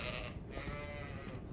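Sheep bleat at a farm in Viking-era Iceland, a few wavering calls close by over a steady low rumble, with no voices.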